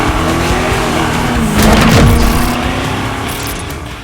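A 2000 Pontiac Formula WS6 with an LS1 V8 and automatic transmission pulls away, its engine note swelling to a peak around the middle before easing off, loud and close with no talking.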